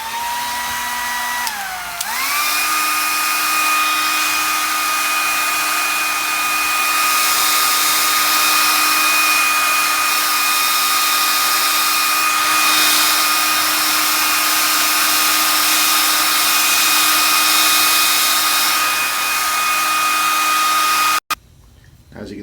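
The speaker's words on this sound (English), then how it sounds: "plug in our handy dryer here and make some noise with it" A handheld hair dryer blasting steadily to de-wrinkle clothes, a loud continuous motor whine with a brief pitch dip as it spins up, running for about twenty seconds before cutting off abruptly.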